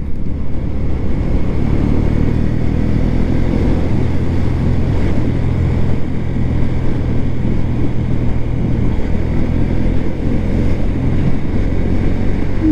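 A Honda CB125 Hornet motorcycle runs downhill in fifth gear, a loud, steady low engine drone heavily mixed with constant wind buffeting on the microphone, no talking.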